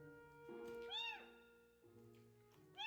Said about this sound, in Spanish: Está llorando el gatito.